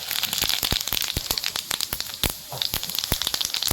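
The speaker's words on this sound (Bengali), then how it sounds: "এবারে তেলে সবচাইতে প্রথমে দিয়ে দিচ্ছি জিরা" Cumin seeds crackle and sizzle in hot oil for a liver khasta biryani, with dense popping bursts over a steady frying hiss, close and fairly loud throughout.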